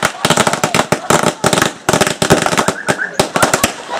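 Fireworks go off nearby in a loud, rapid string of sharp bangs and crackling pops, firing in uneven bursts for several seconds.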